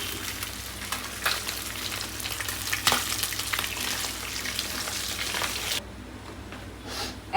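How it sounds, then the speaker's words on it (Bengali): Fish frying in a pan during home cooking, with a steady crackling sizzle and occasional stirring clatter across the clip, close and fairly loud, easing slightly toward the end. "মাছটা ভেজে নিচ্ছি এখন।"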